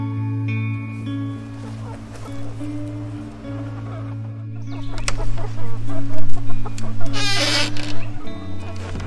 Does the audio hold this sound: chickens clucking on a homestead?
yes